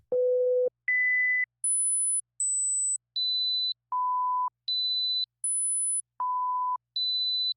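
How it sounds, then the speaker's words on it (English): Pure hearing-test tones at shifting pitches, from low to very high, sound one after another. There are ten evenly spaced beeps of about half a second each, separated by short silent gaps, clean and steady with no voices. "Each one of these numbers has a tone. Can you hear each tone?"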